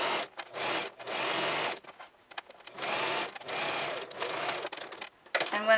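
Sewing machine stitching shirring into fabric: bursts of fast, buzzy mechanical whirring that start and stop repeatedly with short pauses between runs, close and clear.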